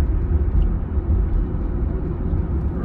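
Minivan driving across the bridge beside Glen Canyon Dam, a steady low road rumble and engine drone from inside the vehicle, continuous and even throughout.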